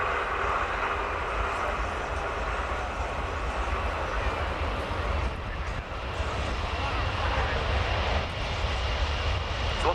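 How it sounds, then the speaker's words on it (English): Four jet engines of a USAF Boeing C-17A Globemaster III roar steadily in reverse thrust during a simulated tactical landing at an air show, loud and continuous with a brief dip midway. "thrust of the four engines being thrust outwards, backwards and up, so that the aircraft can allow ground troops to manoeuvre safely around it"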